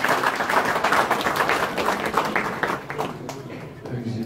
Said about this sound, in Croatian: Molim vas, pozdravimo ga jednim aplauzom.